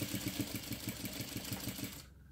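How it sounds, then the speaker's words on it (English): A home sewing machine stitches a half-inch seam on a crossbody bag, a close, quiet, steady mechanical chatter with a regular pulse that stops abruptly near the end. "now I'll stitch that with 1/2 inch seam allowance"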